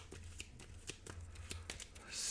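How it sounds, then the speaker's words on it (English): A deck of playing cards for the board game It's A Wonderful Kingdom is shuffled, giving quiet, soft riffling flicks in a steady rhythm, close up, with no talk. "So we will shuffle this up."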